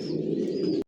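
Racing pigeons of a maxi racer line, master and breeding pairs, coo steadily in a home loft, a close, low, continuous warbling that cuts off abruptly near the end.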